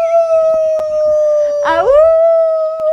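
A human voice imitates a wolf howl, a sustained tonal howl that swoops upward midway and then holds a steady pitch, loud and close with no other sounds.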